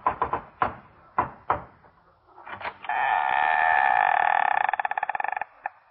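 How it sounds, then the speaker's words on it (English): Knocking on a door as a radio drama sound effect: a quick run of sharp raps, then a few more spaced knocks, followed by a sustained buzzing, ringing tone that pulses and cuts off. "I arrived after lunch and knocked."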